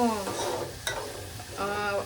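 Spice tempering sizzles and crackles in a hot pan for paddu batter, with a steady frying hiss and stirring scrapes running close and fairly loud, alone without talk.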